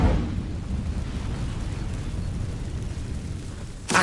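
Incendio, a fire spell, is cast in a wizarding video game on PS4 and gives off a continuous rushing, crackling roar of flame. A brief burst sounds near the end.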